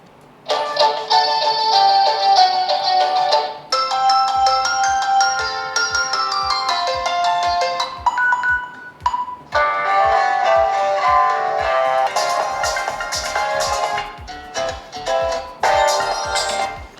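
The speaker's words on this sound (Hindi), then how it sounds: "phone ringtone" A budget smartphone's loudspeaker plays its ringtone, a loud electronic melody of bright synth notes over a pulsing beat, repeating for many seconds with slight harshness.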